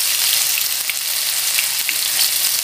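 Pounded paste of shallots, garlic, ginger, lemongrass, turmeric and galangal frying in hot oil for a bamboo-shoot curry, a loud, close, continuous hiss and crackle with small pops throughout.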